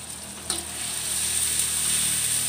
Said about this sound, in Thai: ลงไปเจียวให้หอมนะคะ